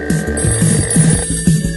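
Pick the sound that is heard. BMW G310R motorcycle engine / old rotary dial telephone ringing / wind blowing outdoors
old rotary dial telephone ringing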